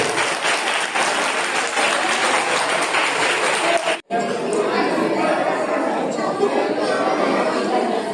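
An audience at a school prize-giving and cultural function applauds, with dense, sustained clapping and crowd chatter that break briefly before the clapping resumes with voices mixed in.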